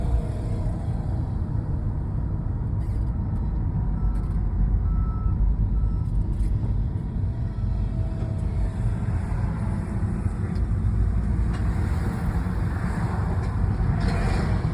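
A Fort Myers Beach bus rumbles past with a low engine drone and road noise, fairly close and steady for several seconds amid outdoor ambience.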